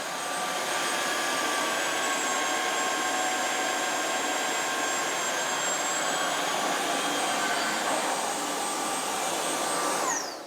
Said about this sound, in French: quand on incline l'appareil complètement à plat, la puissance d'aspiration diminue